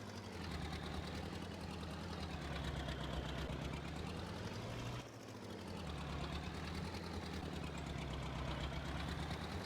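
A tractor engine in Farming Simulator 22 drones steadily as the machine bogs down in a freshly ploughed field, a dense continuous rumble with a brief dip midway before resuming at full level.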